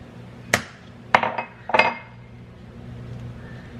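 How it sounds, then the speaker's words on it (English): Two eggs cracked one after another against a bowl, each a sharp close tap followed by a brief clink of shell on glass, three distinct hits in a quiet kitchen. "I always crack my eggs in something else first"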